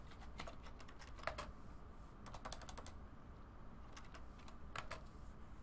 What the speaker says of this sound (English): this is where I would type in laser hair removal